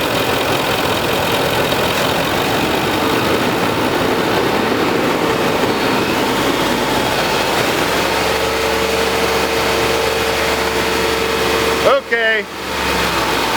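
A Land Rover/Jaguar 3.0L engine at 180-degree operating temperature, being held at 3000 rpm for an oil pressure check, gives a steady broadband hum with rising tonal whine midway, ending in a brief sharp clunk.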